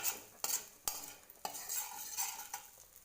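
A popcorn mixture is stirred in a pan on low flame, a quiet sizzle broken by several distinct scraping and clinking strokes of a spoon against the metal, roughly one every half second; no voices.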